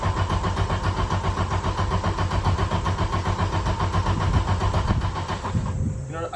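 The turbocharged engine of a 1991 Audi 90 Quattro S2 is cranked by the starter. A loud, rapid, rhythmic chugging goes on for about five and a half seconds, close up, then cuts off and leaves a faint hum, with no talking.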